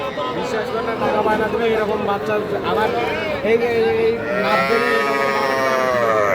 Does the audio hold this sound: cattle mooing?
yes